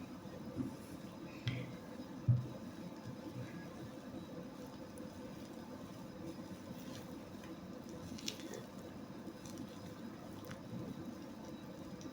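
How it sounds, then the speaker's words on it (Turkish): Cake batter with flour being whisked by hand in a bowl for a simple plain cake. Soft, wet, squishy stirring continues steadily and fairly quietly at close range, with occasional light clinks and no talking. "İçinde topaklanma kalmayana kadar bu şekilde çırpacağım."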